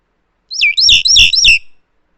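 A pet bird chirps right into a microphone, giving a loud, close, siren-like run of four rapid shrill warbling calls that then stop abruptly, with silence before and after.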